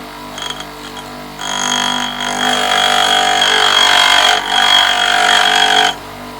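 A bench grinder sharpens a lathe tool on its finer wheel, a bright, whining grinding hiss with overtones that begins after a brief quiet, holds for several seconds with small dips, then stops.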